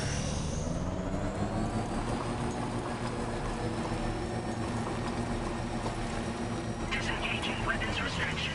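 An aircraft lands in the video game Death Stranding 2, its engine a steady, continuous drone that holds at one level throughout, with a brief brighter rise near the end.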